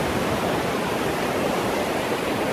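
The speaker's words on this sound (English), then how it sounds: "The waterfall down there." A waterfall somewhere in Germany, heard as a loud, steady, broadband rush of falling water, continuous and unbroken, with no voices over it.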